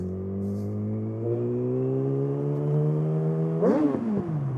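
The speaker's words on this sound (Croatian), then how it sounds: "Uf, kako se čuje motor." A 2008 Yamaha R6 sport motorcycle with an Akrapovič exhaust revs with a steadily climbing whine that holds, then is blipped sharply near the end, loud and close.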